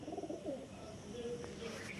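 Soft, low cooing of a pair of pigeons in a pigeon loft in Kolkata, a few gentle burbling calls repeating close by against a quiet background.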